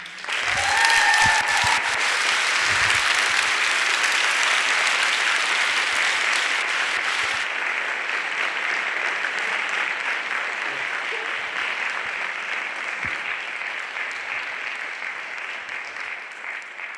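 A college theatre audience applauds the cast of a stage production with sustained, dense clapping that starts loud and close, then slowly tapers off.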